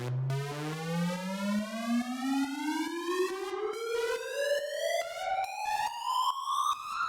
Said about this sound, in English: It's literally just the riser. So I'm using the oscillator.